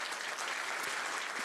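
Audience applause at the Cannes Film Festival welcoming a film critic on stage, a steady dense wash of clapping from a large crowd filling the whole moment without pause.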